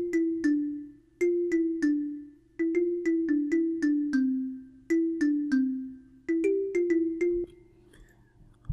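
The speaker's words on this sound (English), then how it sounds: "I used a xylophone to play that sound." Xylophone-like mallet notes play a repeating chorus melody in an Afro pop beat, with bright struck tones in quick groups over a steady low sustained bass, no voices.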